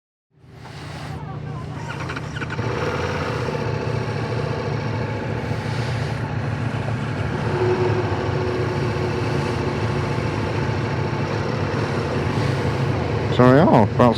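A Ducati Multistrada V4 motorcycle starts and settles into a steady, loud idle close by, a constant low throbbing hum at an outdoor motorcycle festival, with a short rising rev near the end.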